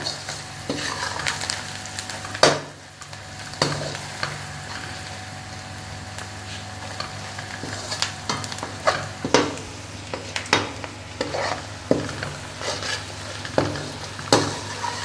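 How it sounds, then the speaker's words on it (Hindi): Onions frying in a pan with turmeric, salt and red chili powder, a steady sizzle broken by repeated scraping stirs and spoon knocks against the pot, close and clear with no talking. "ये तीनों इसके अंदर डाल के थोड़ी देर के लिए हमने फ्राई करना है"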